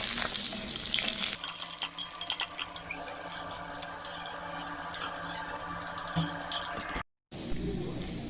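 Fish frying in plenty of hot oil in a pan, a steady close sizzle running throughout with faint clinks, briefly cut off near the end before resuming.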